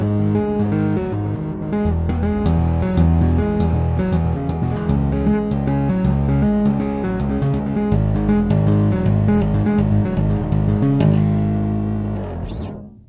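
Bass tapping part in a slow 6/8 ballad feel, sent through an effects pedal: a dense, continuous run of tapped notes with a thick low end that holds steady and then fades out at the end, with no talking.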